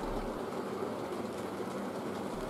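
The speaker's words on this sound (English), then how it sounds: "both the train sets in operation" Two model train sets run together, a goods train behind an O2 locomotive and a B12, making a steady low rolling rumble with faint rail clatter and no talk.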